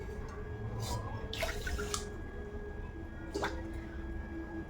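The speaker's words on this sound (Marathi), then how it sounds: "त्याच वाटीच्या मापाने आपल्याला दोन वाटी त्यामध्ये पाणी टाकायचं आहे" Water poured from a bowl into a pan holding sugar, a short trickling, splashing pour with a few separate bursts against a steady low background hum.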